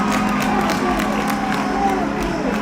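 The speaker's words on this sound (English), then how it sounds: "the crowd is absolutely ballistic right now" Arena crowd at a high school hockey regional final roaring and cheering after a Catholic Central Cougars goal, a loud, sustained wash of shouts with scattered claps and an announcer talking over it.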